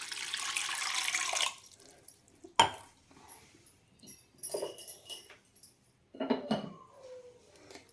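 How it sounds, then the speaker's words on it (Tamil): Half a tumbler of water poured into a pressure cooker holding washed taro roots, a close splashing rush that runs for about a second and a half, followed by scattered clinks and short trickles in a kitchen. "சேர்த்துட்டு ஒரு அரை டம்ளர் தண்ணி சேர்த்துக்கலாங்க."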